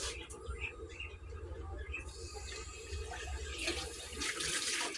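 A mixing cup is rinsed under a running kitchen tap, making a steady splashing stream that grows brighter and hissier toward the end, with talking underneath.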